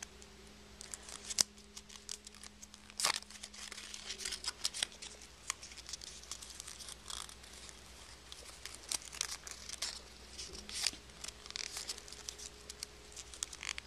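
Paper is folded and creased by hand into origami fireworks, giving close, soft crinkles, rustles and sharp creasing snaps in an irregular stream, with no talking.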